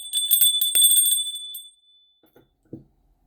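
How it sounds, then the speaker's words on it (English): A bright bell rings in rapid repeated strikes for over a second, then the tone fades, followed by a couple of faint clicks. "we got to ring the bell"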